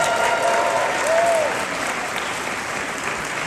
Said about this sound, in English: can we thank some of the absolute best in the business with a giant round of applause?